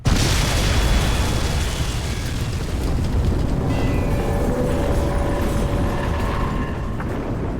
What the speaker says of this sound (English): Warning. Explosion imminent.